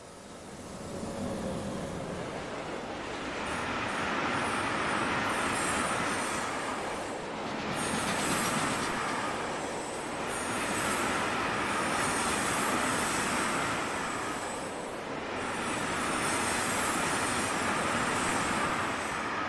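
A BR 185 electric locomotive hauling a freight train in Train Sim World 2022, heard as a steady loud rolling roar of wheels on rails with a faint high squeal and gentle swells in volume throughout.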